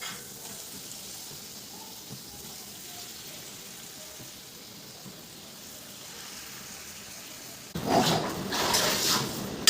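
Boiled potatoes go into a pan over low gas. After a long quiet stretch, a sudden loud sizzle bursts out near the end and keeps crackling with uneven spits.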